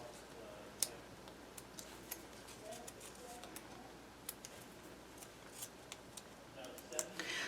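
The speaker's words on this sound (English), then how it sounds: "Then I'm going to remove my little tape backings." Tape backings are peeled off one by one while building a paper craft explosion box album, giving faint scattered crackles and clicks close up over a quiet room hum.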